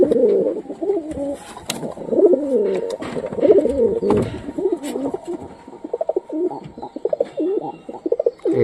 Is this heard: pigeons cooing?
yes